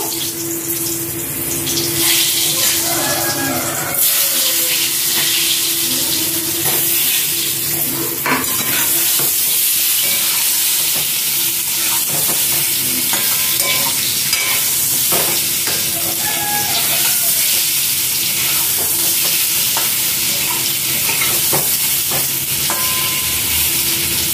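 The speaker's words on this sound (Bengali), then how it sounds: "আলুটাও হালকা করে ভেজে নেব।" Potatoes fry lightly in hot oil for biryani, a loud, steady sizzle that crackles and hisses for the whole stretch, close by, with occasional stirring clatter.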